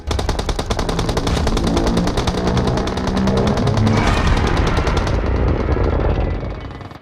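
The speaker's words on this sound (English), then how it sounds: "we have here about 7 players continuously shooting at Godzilla" In PUBG Mobile, seven players fire at Godzilla at once, a loud, dense, unbroken stream of rapid automatic gunfire that thins slightly near the end, with no talking.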